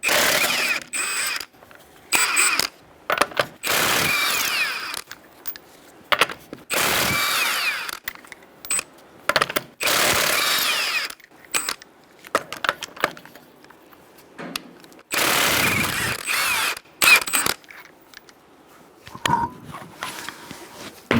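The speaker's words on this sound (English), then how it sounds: "I'm going to use a 21mm socket to take off the front wheel." A ratcheting socket wrench, 21mm, works on the front wheel of a Kia Soul in bursts: quick clicking ratchet runs and whirring spins separated by short quiet gaps, close and fairly loud.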